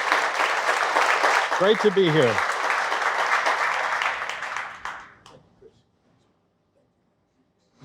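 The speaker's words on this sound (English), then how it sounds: "Big round of applause." A crowd of business owners and city officials at a meet-and-greet gives a hearty round of applause that fades out over about five seconds, with someone briefly speaking over the clapping partway through, then near silence.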